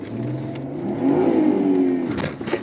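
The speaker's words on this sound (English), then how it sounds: "So I'm going to accelerate from a dead stop" A Mercedes E350 with a faulty, slipping transmission accelerates hard from a dead stop at full throttle, its engine note rising to a loud, sustained rev close by before dropping away.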